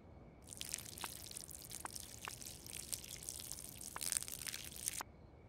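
Plants being watered in the video game Schedule 1, a steady splashing, pattering stream starting abruptly and running for about four and a half seconds before cutting off, fairly quiet with a few crisp drips.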